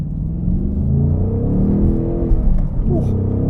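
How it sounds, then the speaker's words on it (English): Ford Mustang Mach 1 V8 engine braking in first gear, a loud, steady low rumble with harmonic burble as revs fall, continuous and close throughout. "you can slow this car pretty damn quickly just by using engine braking"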